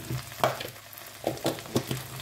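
Red curry paste and coconut milk are stir-fried with pork belly and bamboo shoots, with a soft sizzle broken by several scraping stirs of a utensil in the pan.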